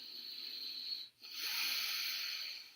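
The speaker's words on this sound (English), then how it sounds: "Blow your nose." A person forcefully blows their nose during a nasal patency check: two sustained, hissing breaths of air close up, split by a brief pause, with no talking.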